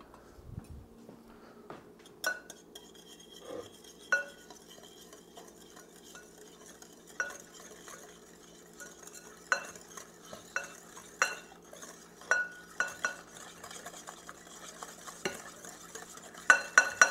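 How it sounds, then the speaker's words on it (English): A whisk stirs egg yolks and corn flour for homemade custard in a bowl, clinking and scraping in a steady run of close, sharp taps that quicken toward the end. "And we take a whisk."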